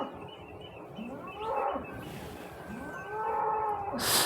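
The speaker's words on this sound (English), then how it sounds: "Sounds like we have a cow very close. I think it's a bull." A bull close by lets out several low, drawn-out moos, loud and outdoors, one after another, with no talking over them.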